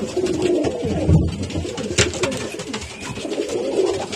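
Pigeons cooing in a loft, several soft overlapping coos close by with a low rhythmic murmur throughout and some faint rustling, no voices.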